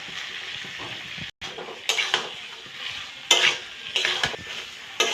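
Tomato and garam masala sizzling and frying in a pan, with a utensil stirring and scraping in several bursts against a steady background sizzle, close and fairly loud.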